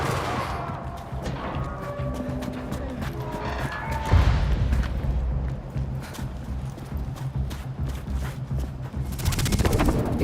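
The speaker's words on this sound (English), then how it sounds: "Is that gunfire?" Bursts of gunfire in the video game Unknown 9: Awakening crackle amid hoofbeat-like clatter and game music, with a louder burst near the middle and rapid shots toward the end.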